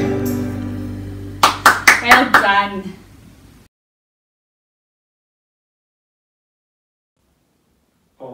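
Five or six quick, sharp hand claps in a steady beat from a group of children at a library story-time session, mixed with talking and singing, then silence.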